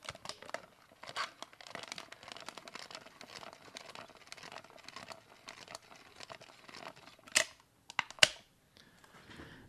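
Someone winds a Kodak Brownie 8mm Funsaver manual movie camera, producing a run of close, dry ratcheting clicks and crinkly ticks that end in a few sharper snaps.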